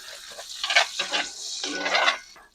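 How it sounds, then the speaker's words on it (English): Bacon crumbles being stirred into melted, browning butter in a pan, giving soft scraping and sizzling bursts over about two seconds, moderately loud and close, with no talk. "Give it a little stir."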